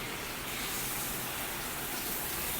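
Water washing down the outside of a residential building, a steady broadband rush like heavy rain or a gushing stream, continuous and fairly even at moderate level, with no voices.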